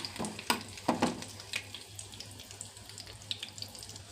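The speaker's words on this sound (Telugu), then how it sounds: "ఎండు కొబ్బరి ముక్కలు కొంచెం బ్రౌన్ కలర్ వచ్చిన దాకా వేయించుకోవాలి" Dry coconut pieces fry in ghee for sweet pongal, a quiet sizzle broken by a few sharper crackles and stirring clatters early on, then settling into a soft steady hiss.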